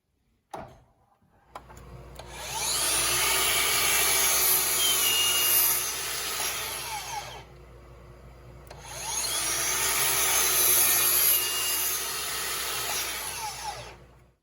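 Makita cordless miter saw cutting wood, two long loud whining cuts of several seconds each with a pause between, the motor spinning up and winding down around each cut, no talk.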